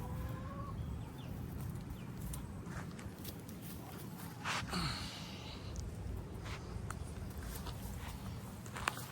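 A rooster makes low, faint clucking sounds outdoors, with scuffling footsteps and steady background noise throughout.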